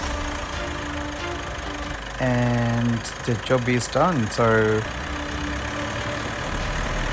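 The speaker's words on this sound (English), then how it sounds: "the engine starts and running" A Mitsubishi 4N15 diesel engine in a Triton L200, just repaired for an injector leak, idles with a steady low rumble that runs throughout beneath a man's speech.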